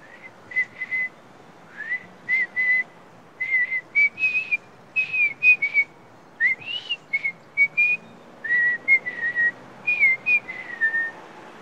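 Someone whistles a lively tune in short, repeated phrases of rising and falling notes, clear and close with brief pauses between.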